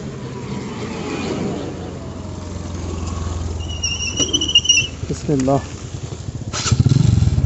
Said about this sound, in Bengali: টিভিএস রেডিয়ন ডিবিএস একশো দশ সিসি বাইক নিয়ে আমি এখন রান করতেছি